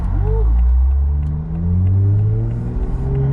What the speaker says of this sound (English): it's loud, but it's not obnoxious loud. And the turbo noises